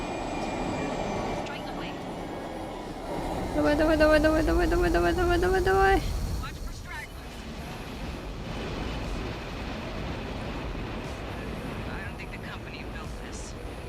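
An air strike in the game Aliens: Fireteam Elite: a rising whine swells for a few seconds, then gives way to a broad rumbling wash as a player shouts repeatedly over it.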